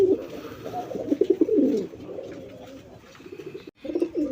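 Domestic pigeons kept for sale coo in soft, repeated bursts close by, several throaty calls following one another with a short pause near the end and no talking.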